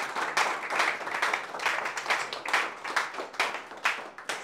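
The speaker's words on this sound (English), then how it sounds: "Let's give the Lord a round of applause and appreciation." Congregation applause at a church service, a steady round of clapping from many hands, close and sustained, with no talk over it.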